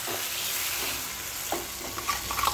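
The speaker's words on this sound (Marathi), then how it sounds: "तर आपण ही चटणीला अशी फोडणी करून घेतलेली आहे" Ground peanut chutney is stirred into a cumin and mustard seed tempering in hot oil. The steady sizzle of frying runs throughout, with soft scraping and clinking of a spoon toward the end.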